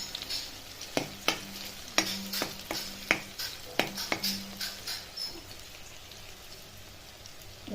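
Crushed garlic and green chilli fry in hot oil, with a steady sizzle and a series of sharp scraping stirs clustered in the first half, then quieter frying alone.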